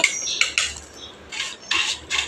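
Fried potato chivda being tossed with chilli powder and salt, bright rustling crunches and light metallic scrapes of a spoon against the bowl in several short bursts, close and clear.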